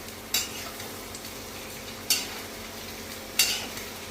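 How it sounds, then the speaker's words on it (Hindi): Bitter gourd frying in a pan with onion and green chilli, a soft steady sizzle broken by three sharp scraping stirs of a spoon against the pan, no voices. "अब इसके अंदर मैंने डाल दिए प्याज, हरी मिर्च। अब इसको भी इसके साथ ही फ्राई करेंगे।"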